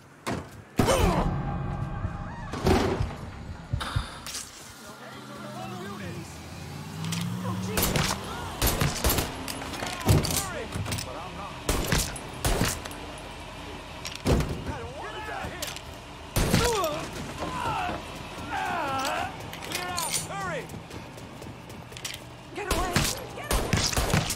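Sustained gunfight in the crime game Mafia 3, loud irregular shots and bursts ringing out over about twenty seconds, mixed with clatter and brief shouted voices.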